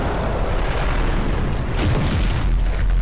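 Cars blow up in Garry's Mod, a dense continuous rumble of booming explosions and debris filling the whole stretch without pause, with no talk.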